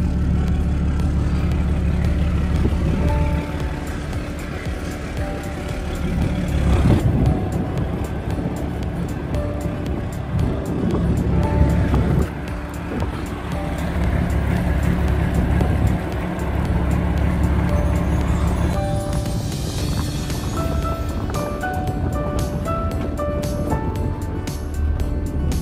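An old Japanese boat's outboard motor runs steadily as the small vessel heads out to sea, a continuous droning engine with water and wind noise throughout, loud and close.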